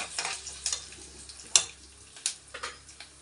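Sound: urad dal frying in a pan

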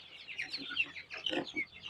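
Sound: chicks on a poultry farm

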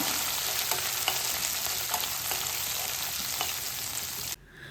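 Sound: onion sautéing in pan after mustard seeds

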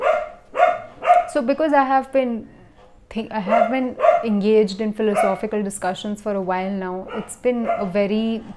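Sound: dog barking

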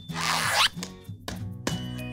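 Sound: zipping up kids' adventure bags

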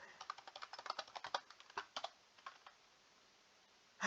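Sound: fast typing on a computer keyboard

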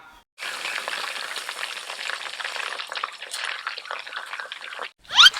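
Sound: pork frying in oil over medium heat

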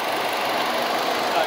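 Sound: used 2013 model car engine running

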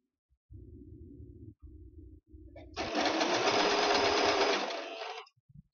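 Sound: sewing machine stitching a skirt waistband

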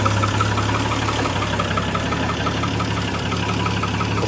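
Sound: classic sports car engine idling

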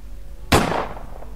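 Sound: gunshot sound effect in a radio horror story

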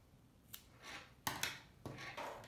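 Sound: scissors cutting in crochet work

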